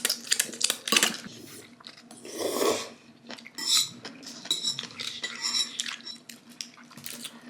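Cutlery clinks and scrapes against a plate with chewing and mouth sounds, close and fairly loud, in irregular bursts with no talking.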